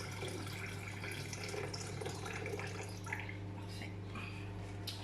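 Blueberry-flavoured water being poured into a filter jug: a soft, continuous trickle and splash of liquid with faint dripping, quiet and steady over a low background hum.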